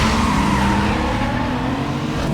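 Audi car engine in Need for Speed Most Wanted, a loud steady roar with a rising whine and tire noise, close and continuous throughout with no voices.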